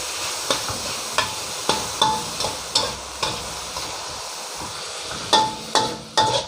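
Pork frying with a spoonful of sauce in a pan for a cha-om glass noodle stir-fry: a steady sizzle broken by regular, close spatula scrapes and taps, with no talking.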